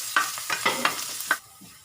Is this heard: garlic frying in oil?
yes